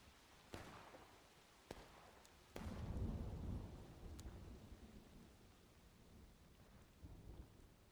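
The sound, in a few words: thunderstorm in a video game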